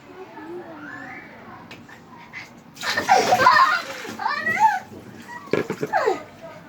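Water poured over a person's head during a penalty game at home, a brief loud splash and splatter in the middle, with children's voices and chatter before and after it.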